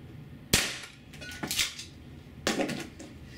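APS CAM870 CO2 airsoft shotgun firing 0.68 caliber rubber shells indoors: a sharp crack followed by two more bursts, with metallic clatter from the pump action in between, close and loud.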